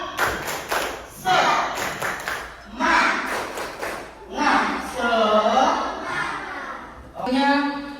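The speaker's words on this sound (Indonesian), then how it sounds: "tepuk tangan buat kita semua dong. Biar semangat, tepuk semangat." A class of schoolchildren in an Islamic lesson performs a rhythmic 'tepuk semangat' spirit clap, with quick patterned bursts of hand claps and thumps alternating with loud group chanting in young voices.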